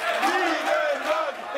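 Spectators at a professional wrestling match, Michael Knight versus Alexander Dean, roaring back into full voice: a sustained, swelling crowd shout with wavering yells, loud and continuous throughout.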